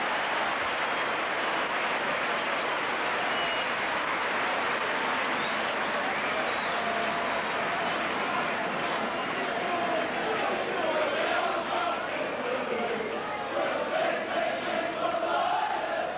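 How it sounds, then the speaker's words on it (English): Crowd at a Leeds versus Rochdale Hornets rugby league match in 1990 applauds in a dense, sustained roar of clapping and cheering that holds steady throughout, with a voice talking over it. "a good round of applause there"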